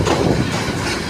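A train rumbles loudly near the Teesta rail bridge, a dense close roar of wheels and carriages over a brief stretch, with no talk.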